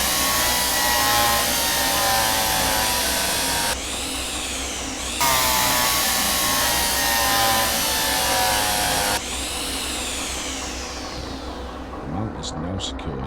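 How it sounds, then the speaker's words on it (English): An electric hand drill in the Derail Valley train simulator bores two holes through a roof mount on a locomotive, with two whining drilling bursts that rise and fall in pitch over steady background noise. "Drill 2 holes through the mount."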